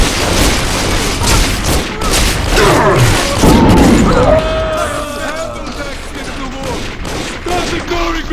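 Gunfire in Bioshock, a loud volley of shots and booms with crashing impacts, mixed with shouted voices and fading into mechanical clatter.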